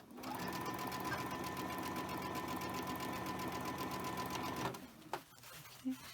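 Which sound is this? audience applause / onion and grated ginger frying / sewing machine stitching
sewing machine stitching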